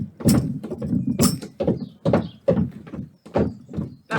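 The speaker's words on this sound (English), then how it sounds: "Stamp feet." Feet stamp on the floor as body percussion, roughly ten loud, close thuds in a fairly steady beat with no talking.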